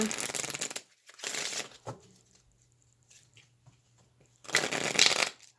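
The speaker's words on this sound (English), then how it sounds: "Let's also get a card from this Edgar Allan Poe deck for career." Playing cards from an Edgar Allan Poe themed deck are shuffled in three loud bursts of riffling patter, with quiet gaps and faint rustling between them.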